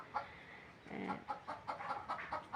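A series of short, quick clucks from chickens, one stretched call in the middle, close and fairly quiet with no talking.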